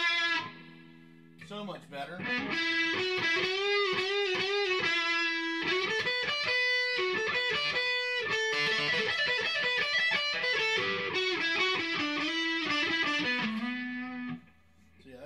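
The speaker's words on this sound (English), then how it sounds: "So that's the clean channel with a DS1 distortion hooked into it" An electric guitar plays a sustained melodic line through a Boss DS-1 distortion pedal into a clean amp channel, thick and buzzy with a steady loud level; someone speaks briefly near the end.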